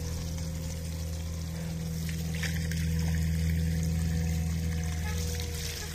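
Water pouring steadily from a newly drilled well after the water has cleared, a continuous close trickle and splash over a low pump-like hum, with no talking.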